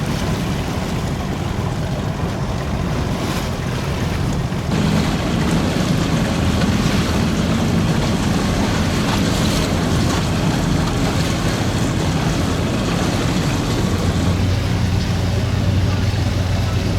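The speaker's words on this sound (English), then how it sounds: "And now we get to see all the beautiful boats go by." Boats passing on warm open water around islands, a loud steady engine drone mixed with wind and splashing waves that runs unbroken throughout.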